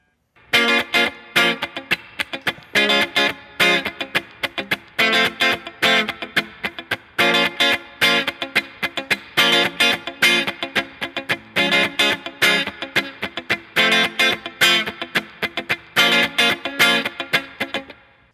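A strummed guitar chord progression from a song, each chord struck in a steady, even rhythm through a bright, effected tone, loud and alone without any talk.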